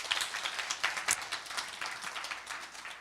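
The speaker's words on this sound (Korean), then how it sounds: "박수 올려드리겠습니다." Church congregation applauding during a youth-group sermon, a dense, steady wash of many hands clapping with no pauses, fairly close and even in loudness throughout.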